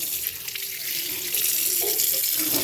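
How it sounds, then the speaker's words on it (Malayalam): Water runs from an opened bathroom tap in a house, a steady close hiss that grows a little louder and fuller partway through. "bathroom തുറക്കിണ്ട് tap തുറക്കിനോട്ടെ"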